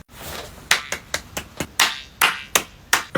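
Several people clap in a sparse, uneven burst of sharp hand claps, close and fairly loud, with separate slaps landing in an irregular rhythm and no voices heard.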